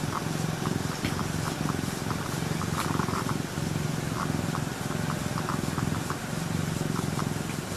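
A pet cat purrs close by in a steady, rhythmic rumble that continues throughout, with faint soft sounds over it.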